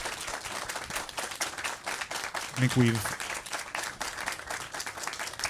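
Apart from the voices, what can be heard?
audience applause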